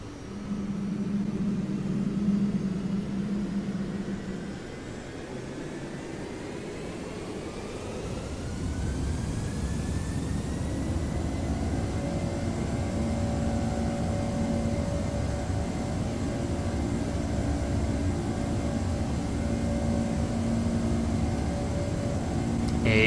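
Jet airliner engines spool up for the takeoff roll in the Prepar3d flight simulator, an American flight departing Dallas for Eagle County: a steady, loud roar that builds partway through with rising whine tones and a deep rumble, no talking.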